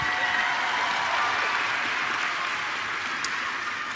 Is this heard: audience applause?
yes